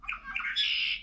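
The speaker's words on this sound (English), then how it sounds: "There's the red-winged blackbird." Red-winged blackbird song from a recording: a brief clear song of short notes rising into a buzzy trill, heard alone and close.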